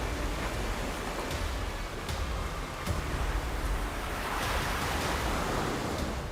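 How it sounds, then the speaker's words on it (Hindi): Sea waves surge and fall along the shore of a coastal town, a steady roaring wash of surf with wind noise, no voices over it. "लहरें कितने ऊपर आ रही हैं और कितने नीचे जा रही हैं"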